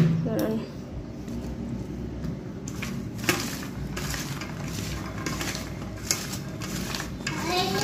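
Salt being mixed into potatoes by hand in a bowl: soft, continuous rustling and scraping with occasional light clinks of dishes, close by, under a steady room background.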